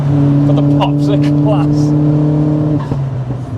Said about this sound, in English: That is the 3-inch exhaust fitted to the VXR.